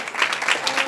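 A church congregation claps and cheers together during a worship service, a dense, steady wash of applause swelling in soft waves from start to finish.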